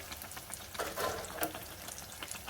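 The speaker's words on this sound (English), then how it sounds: "Doing good things in the fry oil." Apple fritters frying in hot oil: a continuous close crackling sizzle with faint popping and a brief louder swell, steady and alone without talk.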